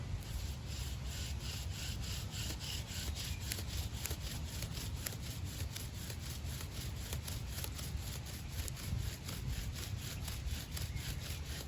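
Bow drill working a pine spindle on a tulip poplar fireboard, with pine needles as tinder: steady, rhythmic back-and-forth friction rasping that runs continuously at close range and moderate loudness, with no talking.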